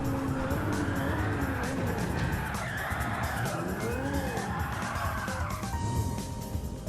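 A race car in Gran Turismo 7 loses grip and skids, its tires squealing in wavering whines over a steady engine roar that stays loud and close throughout.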